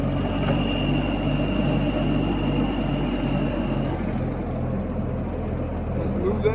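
An old tractor engine under refurbishment runs loud and close, a steady low mechanical drone with a heavy throb throughout.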